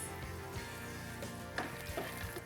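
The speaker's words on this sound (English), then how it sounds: "Just saute these ingredients for half a minute." Cumin seeds, ginger, chilies, cashews and raisins sizzle in hot oil, a close, steady crackling fizz with small pops, alone and without talk.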